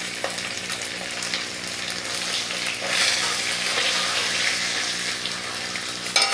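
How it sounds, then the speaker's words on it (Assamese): Whole cumin seeds fry in hot oil in a pan, a dense close crackling sizzle that holds steady throughout, swelling slightly midway, with a few clinks near the end. "এতিয়া ইয়াতে মই গোটা জিৰা অকণমান দি দিছোঁ"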